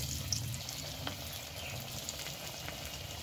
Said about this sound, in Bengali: গরম তেলে দিয়ে দিব মুড়ির বলগুলো।